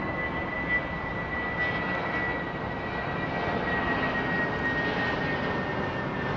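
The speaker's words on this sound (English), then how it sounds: "the A321 is more or less the same length as a VC-10" Airbus A321 jet airliner at London Heathrow Airport, a broad steady engine roar held at a distance for several seconds with a faint thin whine on top and no talk.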